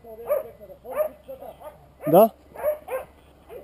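A dog yips and barks in short bursts, near and fairly loud, mixed with excited shouting from several people outdoors.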